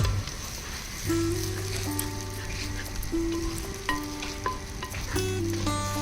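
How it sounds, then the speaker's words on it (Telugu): Ginger garlic paste fries with onions in a pan for a tangy pond-fish curry, giving a steady, close sizzle that runs the whole time with a faint tonal hum in the background. "ఈ అల్లం వెల్లుల్లిపాయ పేస్ట్ కూడా పచ్చివాసన పోయే వరకు ఫ్రై చేసుకోవాలి."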